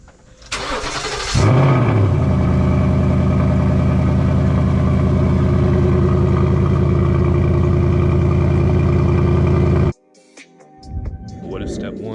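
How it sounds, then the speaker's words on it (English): A Ford Mustang GT cranks and fires on a cold start with a loud flare of revs, then settles into a steady, rumbling idle for several seconds before cutting off abruptly. "let's give you guys a little cold start,"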